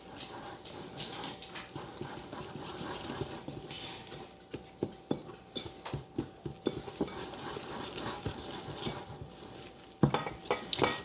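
Banana bread ingredients being mixed together in a bowl, with irregular close clinks and scrapes of a utensil against the bowl that grow sharper and denser near the end, no talking.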